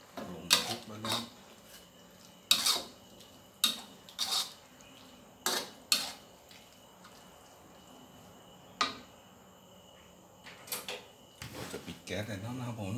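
Vegetables including onion, shallot, carrot and tomato clatter and toss in a pan for banana blossom salad, with repeated sharp utensil-on-pan knocks in irregular bursts, fairly close, amid quiet kitchen sounds.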